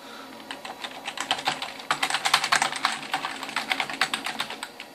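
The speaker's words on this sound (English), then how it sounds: "Right, I'm typing away, nothing's going on." Fingers type quickly on a Dell Dimension 2400 computer keyboard, with close, crisp key clicks coming in uneven bursts and short pauses.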